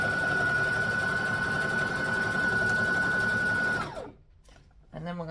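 A sewing machine runs steadily at close range, stitching stretched elastic onto Christmas shorts in a dense mechanical whir, then stops abruptly near the end before a voice speaks briefly.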